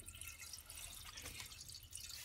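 Water drains from the drain hose of a washing machine with a blocked filter and stuck drain plug, giving a faint, steady trickle and splashing with scattered drips, close by.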